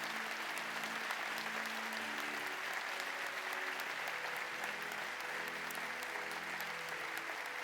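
A congregation at a church service for retiring elders breaks into sustained, steady applause that fills the room evenly from start to finish, with no talk over it.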